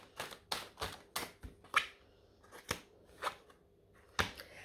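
Tarot cards drawn one by one for a cartomancy reading, a steady series of crisp, close snaps and slaps of card stock, roughly one every half second, with short pauses between.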